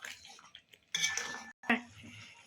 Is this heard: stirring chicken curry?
yes